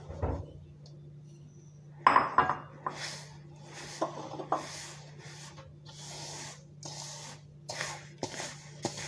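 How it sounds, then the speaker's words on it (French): Cookie dough mixture for Turkish cookies is stirred in a bowl, with a spoon scraping and clinking against the sides in a series of rhythmic, close strokes, moderately loud, with no talking. "Maintenant, je verse dans le mélange et je viens mélanger."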